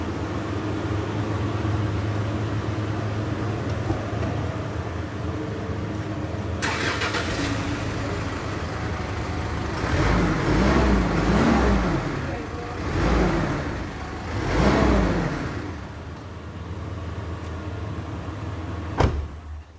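A restored Mitsubishi Pajero with its engine idling and a large cooling fan whirring, a steady drone with a few swelling revs partway through and a sharp click near the end.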